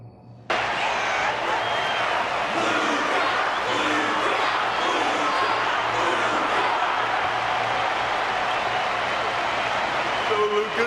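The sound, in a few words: crowd applause in the video game Honkai: Star Rail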